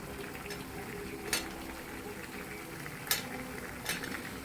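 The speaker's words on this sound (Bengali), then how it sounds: "এবার আমি ভেজে রাখা আলুটা দিয়ে দেবো।" Fried potatoes go into a pan of chicken cooking for a winter-night dish, giving a low steady sizzle with a few sharp scraping or stirring clicks, quiet and without talk.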